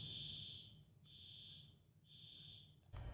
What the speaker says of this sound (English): Our fire alarm is going off.